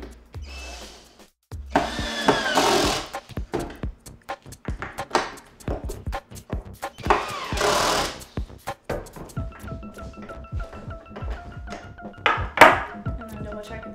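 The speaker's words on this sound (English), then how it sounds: "So grab my tool and then my power tool and tighten them." Power tool tightening the truck bolts on a pintail longboard during assembly, short bursts of whirring and ratcheting between clunks of handling, close and fairly loud.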